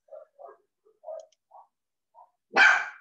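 A pet dog indoors lets out a single sharp bark near the end, after a few faint, scattered soft noises in an otherwise quiet room.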